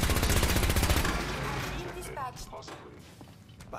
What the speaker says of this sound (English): they're just shooting everything at this point